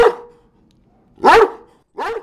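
A weak puppy from a litter affected by fading puppy syndrome gives a few short, separate yelps and barks, close by, with pauses between them and no talking.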